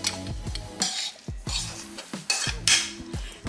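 Spiced rum sauce ingredients being mixed in a bowl: repeated clinks and scrapes of a utensil against the bowl, arriving in an irregular rhythm, close and moderately loud, with no talking.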